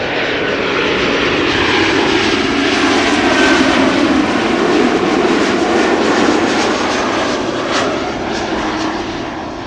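Airliner arriving on runway 06 (Kaagbaan) at Amsterdam Schiphol Airport, its engines roaring loud and close in a sustained broadband rush that holds steady, then eases slightly toward the end.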